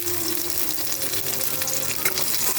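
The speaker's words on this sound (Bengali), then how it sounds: "এর মধ্যে দেবো আমি রাঁধুনি ফোড়ন, আর একটা শুকনো লঙ্কা, আর একটা তেজপাতা।" Radhuni seeds, a dried red chilli and a bay leaf frying in a little oil in a kadai, a steady close, loud sizzle with crackly spitting throughout.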